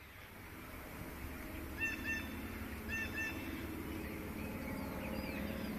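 Birds call overhead under dark skies before a storm, with two faint pairs of short honking calls rising over a steady wash of outdoor wind noise.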